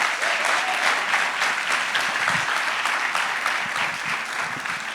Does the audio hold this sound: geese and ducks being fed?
no